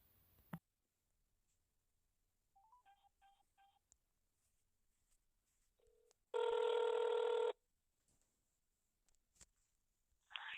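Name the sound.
telephone ringing on an outgoing call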